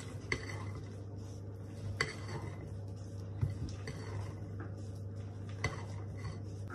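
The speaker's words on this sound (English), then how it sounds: "I'm going to switch to a spatula just so it's easier to fold the mixture." Banana and chocolate chip muffin batter folded with a spatula in a bowl, soft scraping and occasional light clinks against the bowl at irregular intervals, fairly quiet and close with no talking.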